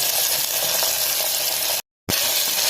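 Sliced onion, green chili and curry leaves fry in hot oil for a Kerala kadala curry, a loud continuous crackling sizzle broken by a brief cut to silence, with no talking.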